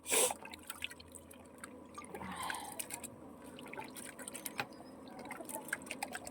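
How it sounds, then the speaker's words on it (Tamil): Tamarind being dissolved in water for rasam: soft, irregular drips and light sloshing of liquid close by, quiet and intermittent, with one sharper splash at the start. "இதுதாங்க நம்ம இப்போ வந்து புளி கரைக்கிறதுல தான் ரசம் சூப்பராக இருக்கும்"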